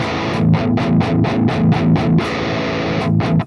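A heavily distorted electric guitar plays a rhythmic run of short, chugging chords, loud and close, with a brief pause before a final few strums.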